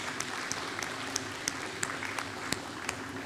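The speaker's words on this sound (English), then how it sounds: "I say we give him a round of applause" A few people at a glass-art demonstration clap for a finished glass pet, the applause sparse and fairly faint, with individual claps standing out in an uneven rhythm over a low room hum.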